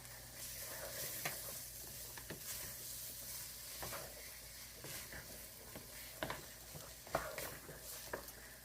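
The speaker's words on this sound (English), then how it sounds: "I'm actually going to throw my beans in there now just so I can get them out of the way" Two rinsed cans and two boxes of beans tumble into a pot of BBQ beef and get stirred, a soft wet scraping with faint sizzle underneath and a few sharper spoon knocks toward the end.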